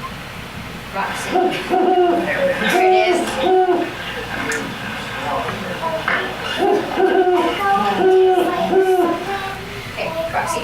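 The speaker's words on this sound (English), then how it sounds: "the owl was hooting in our background" An owl hoots in two clear bursts of repeated calls, fairly loud and near, while someone speaks briefly and classroom shuffling goes on underneath.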